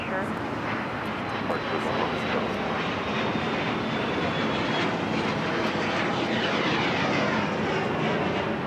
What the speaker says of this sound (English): heard Air New Zealand Flight 6 coming up from Auckland, the 777 at 300 ER